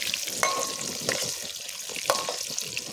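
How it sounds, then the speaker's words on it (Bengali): Potatoes fry lightly in oil in a village kitchen, giving a soft continuous sizzle with a few sharp metallic spatula taps and stirring scrapes, close and moderately loud. "আলুগুলো হালকা ভেজে নিয়ে তুলে নেবো"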